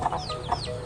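Native hens cluck in short, repeated bursts close by, a quick run of soft calls against a steady farmyard background.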